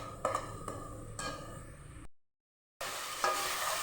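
Ginger pieces browning in hot oil for potato korma sizzle steadily in a pan, with a few stirring scrapes, a brief silent gap, then the frying resumes close and moderately loud.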